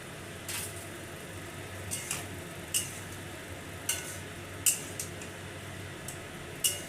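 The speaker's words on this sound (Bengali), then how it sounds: "আমার মশলাটা কষানো হয়ে গেছে, দিয়ে দিচ্ছি ভেজে রাখা সয়াবিন।" Fried soybean chunks go into a pan of cooked spice masala for a vegetarian Bengali soybean curry: faint sizzling under a series of light spoon-and-pan clinks spaced a second or so apart, quiet and close, without talk.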